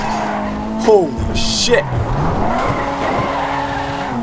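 A Furore GT car in GTA 5 revs hard against its 9,000 RPM redline, loud rising engine whine with tire squeal and skidding, while a man exclaims over it.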